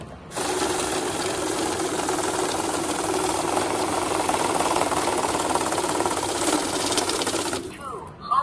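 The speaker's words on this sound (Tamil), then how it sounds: "இதை எடுத்து மறுபடியும் நான் அகைன் போடுறேன். அது கூட சேர்ந்து உங்களுக்கு கவுண்ட் பண்ணும்." Currency note counting machine riffling through a stack of rupee banknotes, a fast continuous mechanical whirring rattle that runs steadily for about eight seconds and then stops abruptly, close and fairly loud.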